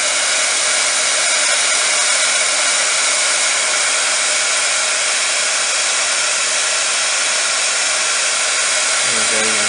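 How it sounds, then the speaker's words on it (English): A heat gun blows hot air over resin, a steady loud rushing whoosh that stays constant throughout, close by, with no voices. "I heat my heat gun up off the project first, so that I'm not just blowing air on it."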